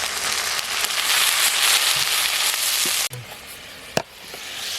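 A loud, continuous sizzle of ginger, cumin and coriander paste frying with onions in a pan, with a few sharp crackles and pops as water is added near the end.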